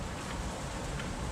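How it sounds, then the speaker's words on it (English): Honey bees buzzing on the frames of an open hive during a spring inspection, a steady dense drone close by with no pauses. "there's a whole bunch of bees on this frames"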